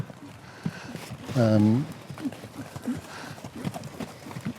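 A young horse in a racing stable makes scattered hoof clops on a hard floor and gives a short whinny, while someone talks nearby throughout.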